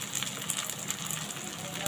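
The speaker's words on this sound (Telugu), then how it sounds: "ఇది ఫ్రై అయిపోతుంది కదా." Drumstick leaves fry in an oiled pan for a Telugu tempering dish, giving a steady, close hiss and crackle of sizzling oil with small pops throughout.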